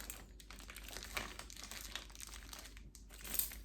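Thin transparent paper is crinkled and handled at a nail desk, soft scattered rustles and crackles up close, quiet, with no talking.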